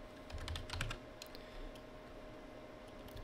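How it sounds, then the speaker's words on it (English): Typing on a computer keyboard while entering Cisco IOS router configuration commands: a burst of rapid close key clicks in the first second, then sparse scattered taps over a steady low hum. "I can't type worth a crap today"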